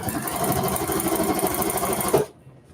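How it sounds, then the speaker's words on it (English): A sewing machine stitches a seam on a fabric maker caddy, a fast, even mechanical whir that runs steadily close by, then stops abruptly and leaves near silence. "So let's go ahead and sew that seam."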